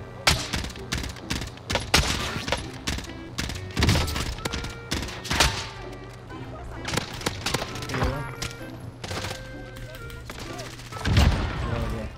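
Sykov pistol fire in Call of Duty Warzone, sharp repeated shots in bursts scattered across a busy firefight with other gunfire and impacts, loud and close.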